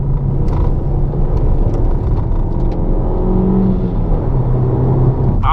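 Alfa Romeo MiTo on its stock factory exhaust line revving, a steady loud engine drone with rising and falling throttle, close to the microphone and heard alone.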